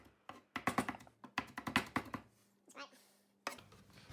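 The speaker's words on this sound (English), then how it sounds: "I'm using one of our sharp knives here. Just chopping it one way and then the other way." A sharp kitchen knife chops dog-food ingredients finely on a board, producing rapid bursts of close, crisp knocks in quick clusters with brief pauses between runs.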